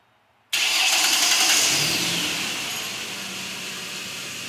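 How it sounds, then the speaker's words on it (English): A 2010 Ford Explorer engine cranks and fires via remote start after a quiet moment, catching with a loud surge and then settling into a steady, slightly quieter idle, heard up close with no talking. "That'll activate the remote starter."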